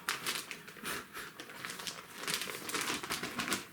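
Close, continuous crinkling of a plastic bag being handled while vacuum-packing grapes for storage, rustling steadily with no talking.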